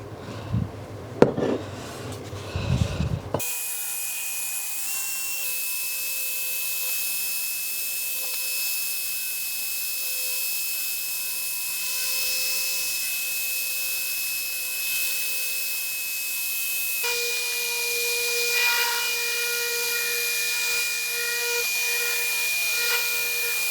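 A rotary polisher buffing a Harley 48 motorcycle fender using Rupes coarse compound on a new coarse pad, a steady high motor whine that holds for about twenty seconds after a few handling knocks, shifting pitch slightly as pressure changes.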